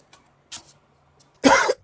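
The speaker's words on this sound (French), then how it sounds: "il a besoin de tousser la famille" A man coughs in a harsh, loud burst near the end, followed by the start of another cough, after faint background murmurs and quiet sounds.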